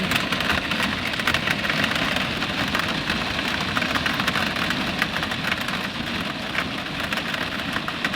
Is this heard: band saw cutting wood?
no